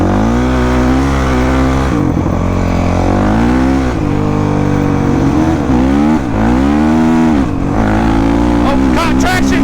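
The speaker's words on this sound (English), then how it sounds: "I'm going 70 on a dirt road with supermoto tires." Supermoto motorcycle on street tires ridden fast along a dirt road, its engine loud and close throughout, pitch rising and falling through repeated revs, shifts and throttle swells with constant wind roar.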